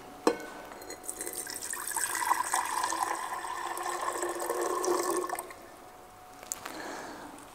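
Water poured into an improvised tank of a seed-treating machine, a steady close splashing stream that runs for about five seconds and then stops, with no voices.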